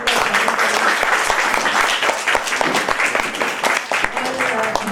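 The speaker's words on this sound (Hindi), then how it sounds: "मैं सभी से गुजारिश करती हूँ कि एक बार जोर से ताली बजा के" A crowd claps steadily for several seconds at a cancer charity event, dense and continuous applause filling the room, with voices faintly mixed in.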